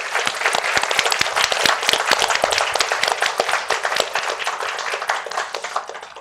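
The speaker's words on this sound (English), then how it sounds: "Can we just give them all another round of applause?" An audience claps for a panel at an event on North Korean human rights abuses, loud, sustained applause from many hands that tapers slightly toward the end.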